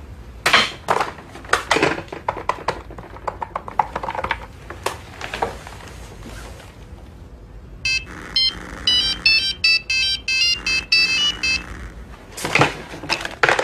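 An electronic telephone ringtone chirps in a rapid warbling pattern for several seconds, set between bursts of clattering and rustling room noise.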